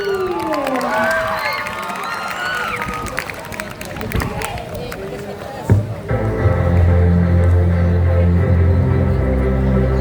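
A crowd at a campus debate event cheers, whoops and claps for the panelists and timekeeper, lively shouting and applause giving way to a steady loud hum and music-like tones in the second half.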